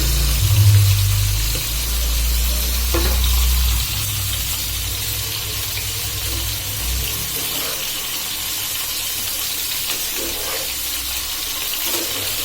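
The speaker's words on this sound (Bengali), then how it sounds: "এবার এই যে হলুদ, লবণ আর ধনিয়ার গুঁড়ো দিয়ে মেখে রাখা বরবটি শিমগুলো দিয়ে দিচ্ছি" Yardlong beans coated in turmeric, salt and coriander powder hit a hot pan with fried green chilies, setting off a loud, steady sizzle that settles into a constant hiss.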